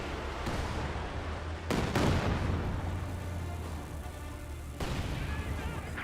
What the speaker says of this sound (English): Firing a close range barrage on the pack gun